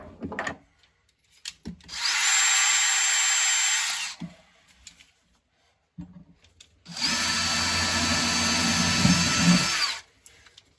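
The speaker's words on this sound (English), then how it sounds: "I'm going to get a small drill bit and drill through." A small power drill whirs through the wooden hull of a micro cruiser boat in two steady bursts of a couple of seconds each, with quiet pauses and faint handling noises between.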